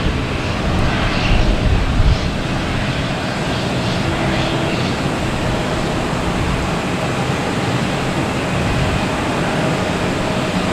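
An Aer Lingus Airbus A321neo departing Boston Logan gives off a loud, continuous broadband jet roar that holds steady without fading throughout.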